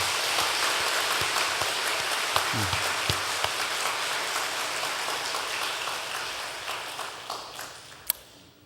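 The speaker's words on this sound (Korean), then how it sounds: "우리 다 같이 하나님께 영광 돌리는 박수 한번 하겠습니다." A church congregation at an anniversary thanksgiving service claps together in a steady, moderately quiet patter of applause that fills the room for several seconds, with a few sharper taps standing out near the end.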